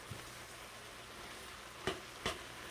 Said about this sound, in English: So I'm giving it a good stir.